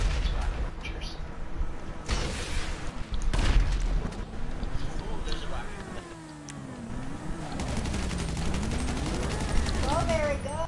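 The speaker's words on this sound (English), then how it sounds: "Ooh, there's a rocket coming at me." A rocket whooshes in and bursts in GTA V, with heavy blasts near the start and a rising, wavering whine of the incoming projectile over ongoing game gunfire and engine noise.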